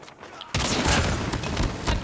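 An automatic turret firing in a video game, a rapid loud burst of gunfire that starts abruptly after a quiet moment and continues steadily, with faint speech in the background.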